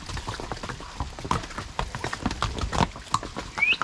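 Horses carrying travellers along a waterfall trail past isolated farms clip-clop steadily over the ground, close and fairly loud, with irregular overlapping hoofbeats and faint rustling, no talk.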